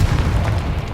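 Fire blasting curse going off in Hogwarts Legacy, a dense low rumbling boom that fills the whole second with little break.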